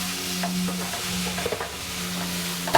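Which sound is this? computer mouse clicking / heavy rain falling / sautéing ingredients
sautéing ingredients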